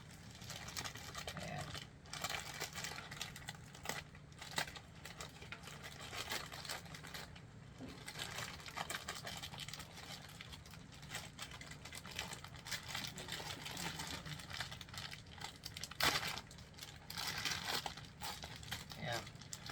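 A plastic shipping bag holding a party garland is crinkled and torn open up close, with steady rustling and crackling throughout and a sharper rip late on, while a person talks over it.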